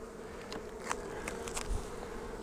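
Honeybees buzzing around an open, sparsely populated hive during a winter-prep inspection, a faint steady drone with a few brief louder passes close by.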